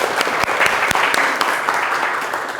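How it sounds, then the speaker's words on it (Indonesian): Classroom applause from students during a mathematics lesson, a short burst of dense, close clapping at fairly steady loudness. "tepuk tangan untuk kita semua ya."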